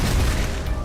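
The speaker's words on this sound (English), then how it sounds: "More explosions, perfect." Explosions in the shooter game Ion Fury: a loud, continuous low rumble of blasts and booms filling the whole short moment.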